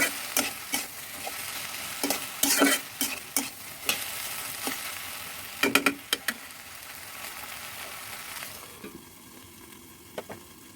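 Food fries in a pan while a utensil stirs it, giving a steady sizzle with repeated sharp scraping clacks, busiest early on and fading to a quieter hiss near the end.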